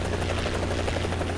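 Helicopter engine in the video game War Thunder, a steady loud rotor thump and turbine drone pulsing evenly throughout a short stretch with no talk.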